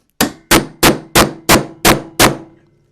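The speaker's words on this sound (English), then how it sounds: "Sorry about the loud hammer noise." Seven loud, evenly spaced hammer strikes ring out one after another during a spear build, each a sharp metallic bang with a short ringing decay, close and alone.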